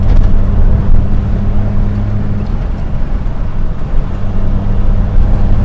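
A Metro car fitted with a Maniflow aftermarket exhaust, heard from inside while driving, gives a steady low engine drone with a faint whoosh of wind.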